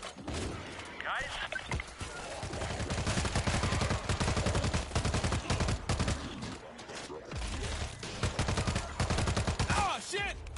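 Sustained automatic gunfire from the zombie shooter World War Z, dense rapid bursts with short pauses, loud and close, with a voice talking over the shooting.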